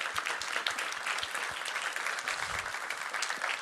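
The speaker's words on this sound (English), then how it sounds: "let's give Andrew another round of applause" A conference audience at the Transparency.dev Summit applauds a speaker, a lively patter of many hands with some sharp nearby claps standing out, steady throughout with no voices.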